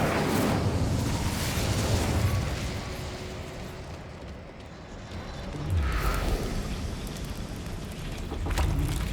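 Incendio fire spell cast in Hogwarts Legacy, a roaring whoosh of flame that swells, dips and flares again in loud rushing waves, with no voices over it.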